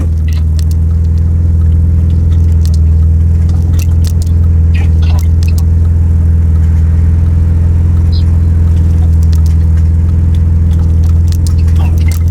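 A BMW E36 accelerates under full throttle while driving, a loud steady low engine drone and road rumble inside the cabin that holds the whole time, with faint voices underneath.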